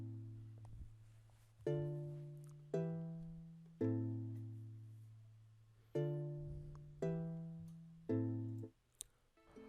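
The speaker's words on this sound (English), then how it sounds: "we are using a guitar sound called ukulele" Ukulele-style guitar patch from the Expand 2 plugin strums a chord progression, six sustained chords struck roughly a second apart and ringing out with a clear attack and slow decay, alone with no talking.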